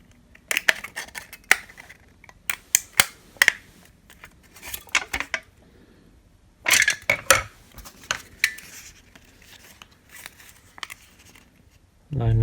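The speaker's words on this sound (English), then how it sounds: "Be sure to cut these notch lines halfway the length of that 2 1/4 inch side" Scissors snipping notches into an aluminum soda can for an ultralight alcohol stove, with sharp metallic clicks and crinkles in irregular bursts, close up, amid light handling noise.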